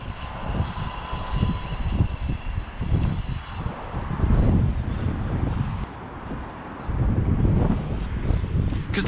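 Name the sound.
wind blowing on top of tall building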